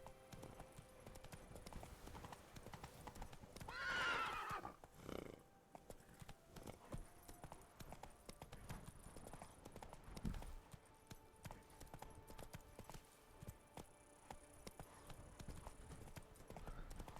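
In Witcher 3, the horse Roach trots with a steady clip-clop of hooves that continues throughout, and a brief whinny breaks in early on; the hoofbeats stay moderately close under low game ambience.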